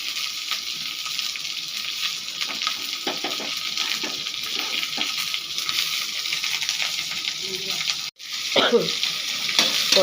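Onion, mustard seeds and curry leaves sauté in a pan for an egg fry, a dense, steady hiss of frying that runs close and loud, with faint scraping and a brief cut near the end.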